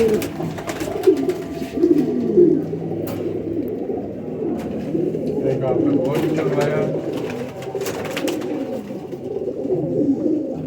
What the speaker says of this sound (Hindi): ये वेशी कबूतर, मुझे बहुत अरसे के बाद मैंने इस आँख में इतना अच्छा वेशी कबूतर देखा था।